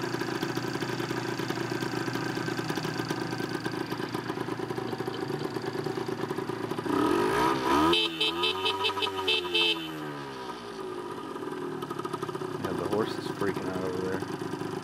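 A Yamaha DT50 motorcycle engine drones steadily while riding, and midway its pitch swoops up and back down as the throttle changes before the steady hum returns.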